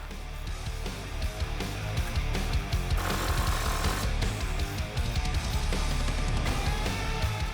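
Hand and power tools work loose the front sway bar links on a Jeep Wrangler Rubicon, giving a steady mechanical rattling and buzzing with metallic clatter that runs throughout, close and moderately loud, with no voices.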